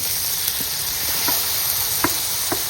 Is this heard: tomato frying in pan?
yes